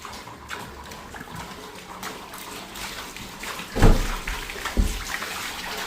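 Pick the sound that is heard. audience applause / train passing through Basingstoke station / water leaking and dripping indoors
water leaking and dripping indoors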